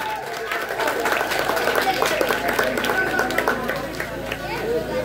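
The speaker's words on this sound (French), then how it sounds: "On nous applaudit s'il vous plaît." A crowd claps during a surprise celebration that former students of the CCF school in Camp-Perrin held for the school's anniversary. The applause is thick and continuous, with voices mixed in.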